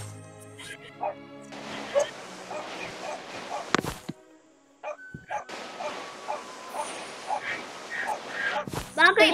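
A pet dog barks and yips in short bursts around people chatting in a home garden with cactus plants, the barks mixed among the voices, moderately close and intermittent.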